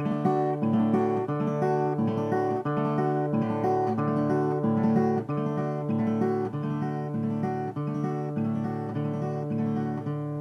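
Steady fingerpicked guitar pattern: rolled chord strokes over a bass note alternating between two strings, played continuously at a moderate tempo, close and alone.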